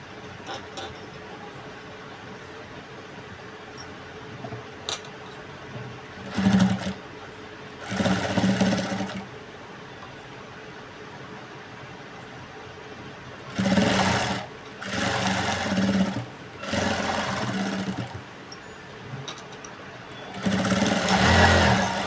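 A sewing machine stitches a blouse in several separate bursts of a second or two each, separated by quieter stretches of faint background hiss; the runs are close and clear, with no speech.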